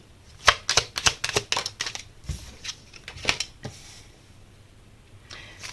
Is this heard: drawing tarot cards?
yes